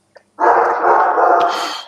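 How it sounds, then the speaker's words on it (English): A single loud, drawn-out bark or howl from a dog, close by, lasting over a second after a brief faint yip, with no talk over it. "Dog."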